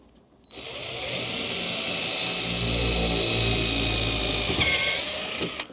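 A power drill whirs steadily for about five seconds, a loud continuous grinding drone as it bores into a wall during a closet installation, then winds down.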